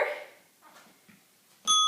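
A workout timer buzzer sounds at the start of a bodyweight HIIT interval, a short sharp electronic tone near the end following quieter room noise.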